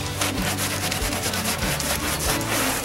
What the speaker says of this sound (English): Walnut scrub pad. All natural. Takes it right off.